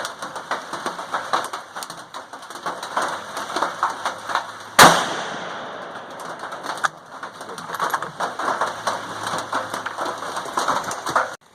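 A Ruger Predator rifle in 6.5 Grendel fires a single sharp, loud shot midway through, during load testing at an outdoor range, with birds cooing and calling before and after.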